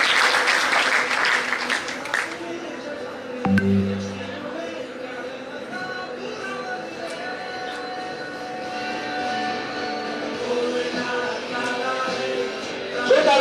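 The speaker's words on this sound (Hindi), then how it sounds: "ताली के साथ आमंत्रित करना चाहता हूं" Audience applause greeting Mr. Sagar Kasera as he is welcomed onto the stage at a student merit award ceremony in a hall: sustained crowd clapping that swells and fades, with a voice speaking over the PA partway through.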